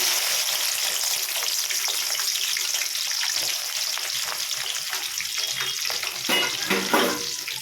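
One onion and four green chillies crackle in hot oil for a tempering, a bright dense sizzle running close and steady with a few stirring scrapes near the end.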